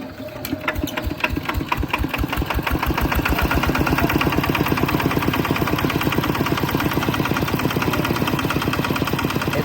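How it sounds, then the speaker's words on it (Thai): A walk-behind tractor engine chugs in a rapid, steady single-cylinder beat, starting up and settling into an even, loud, close running rhythm. "ไปติดรถไถ"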